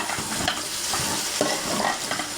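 Drumstick stems cooking with stinging catfish in a pan make a steady, close sizzle of frying, broken by the scrape and clatter of stirring.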